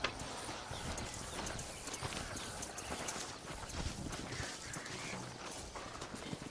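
Horse hooves clip-clopping in the Red Dead Redemption video game, set in Nuevo Paraiso, a continuous busy patter of hoofbeats blended into dense outdoor game ambience at moderate loudness.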